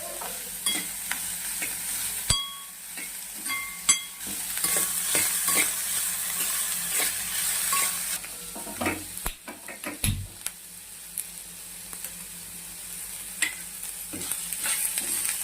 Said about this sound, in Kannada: ಇದು ಹಸಿ ವಾಸನೆ ಹೋಗೋವರೆಗೂ ಫ್ರೈ ಆಗುತ್ತೆ.